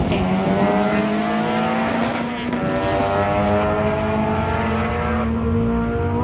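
Turbocharged 1992 Honda Civic on a drag strip pass, its engine note climbing steadily through the gears as a loud, continuous strained drone with a brief dip at a shift.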